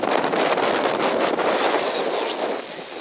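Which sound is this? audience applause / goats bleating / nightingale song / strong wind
strong wind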